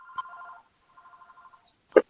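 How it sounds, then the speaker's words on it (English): A telephone rings during a town zoning board meeting, two short electronic trilling bursts separated by a pause, fairly clear against a quiet room, followed by a brief sharp knock or click at the end. "Sorry, the phone's ringing."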